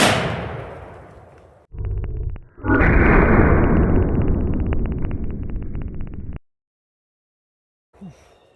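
A .50 BMG rifle fires one round: a huge, sharp blast with a long booming decay, then a second loud roar of echo and rumble that cuts off abruptly, followed by silence and a faint thump.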